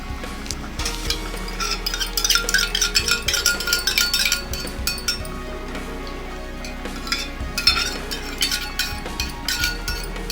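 A spoon stirs a saffron mixture into boiled milk in a pot, with repeated close scraping and clinks of metal against the pot's sides and a low bubbling simmer underneath.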